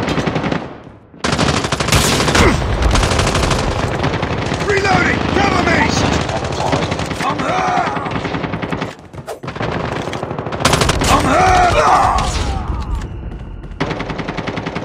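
Dense, loud automatic gunfire from a Call of Duty battle, continuous rapid bursts with brief pauses, mixed with shouting voices over the noise.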